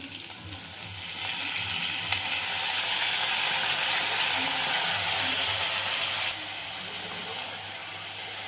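Cabbage tossed into a hot pan of fried fish head and potatoes sets off a loud, steady sizzle and hiss of frying, with a few stirring scrapes and no talking.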